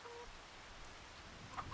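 Hens clucking inside a full chicken coop on a farm in Farming Simulator 25, a low steady murmur of fowl with a few sharper calls rising near the end.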